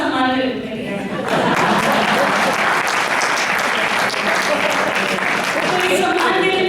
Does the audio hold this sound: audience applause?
yes